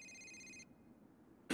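Electronic phone ringtone from an animated What If...? episode: a steady tonal ring for about half a second that cuts off, then a brief louder burst near the end, heard alone without talk.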